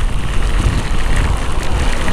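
Heavy rain roars steadily and loudly around a rider on a Voltz EV1 electric motorcycle, a dense continuous wash of drops and road spray with no voices.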